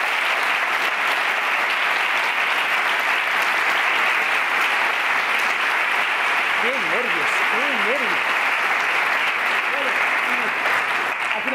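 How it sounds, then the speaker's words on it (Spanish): Steady audience applause fills the room at a talk about going from multiple sclerosis to Ironman, dense and even throughout, with faint voices briefly audible partway through. "este aplauso, por favor, para él."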